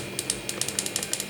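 Keys on a Leopold FC210TP mechanical numpad are pressed in a quick run of sharp, close clicks, about a dozen in steady succession, with no talking.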